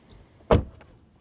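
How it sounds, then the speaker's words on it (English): A single solid thud as a Tesla Model Y car door swings shut, close and short against a quiet background. "then we're going to close the door"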